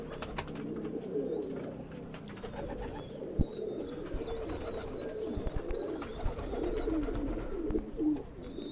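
A pair of Ferozpuri pigeons coos softly, with repeated low, throaty calls close by over faint background chirps and occasional light knocks.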